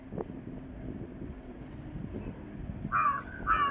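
Two short crow caws ring out near the end over a low rumbling outdoor background.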